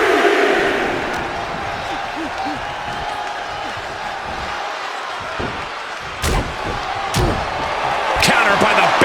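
A wrestler throws an opponent in the WWE 2K24 video game, with a few sharp slams thudding over a roaring arena crowd and an excited commentator talking.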